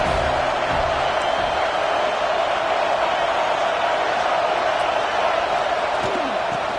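A large football stadium crowd roars as a broad, constant wall of noise, loud and unbroken throughout, with no single voice standing out.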